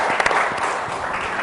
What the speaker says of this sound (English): Big round of applause for Mr. Daniel.